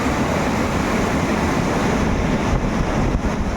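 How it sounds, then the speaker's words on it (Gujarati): Loud wind buffets the microphone over the steady wash of sea waves, a dense continuous roar with no voices. "દરિયામાં લહેરું મારતા એવું લાગે છે"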